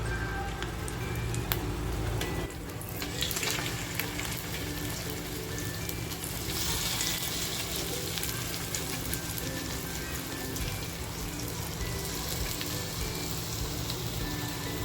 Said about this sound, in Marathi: आपण ही मच्छी फ्राय करून घेऊया म्हणजे हलव्याला फ्राय करून घेऊया तेल सुद्धा बघा आपलं छान तापलेलं आहे